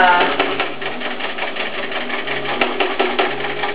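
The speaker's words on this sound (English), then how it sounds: "my machine will pick up again, and it will start quilting again right from where it left off" A computerized PC Quilter long-arm quilting machine resumes stitching, giving a steady fast mechanical rattle with rhythmic clicks, close and continuous throughout, with some low background voice.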